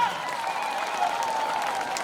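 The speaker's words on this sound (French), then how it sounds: "Applaudissez, non?" An audience at a bilingual high school ceremony applauds a student prize winner in judo, moderately faint continuous clapping with crowd murmur and some voices beneath it.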